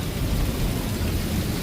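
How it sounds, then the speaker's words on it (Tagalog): Heavy rain pours down at night during a storm in Canada, a dense, unbroken roar of falling water with a deep low rumble beneath it and no voices. "Naku, malakas ang ulan."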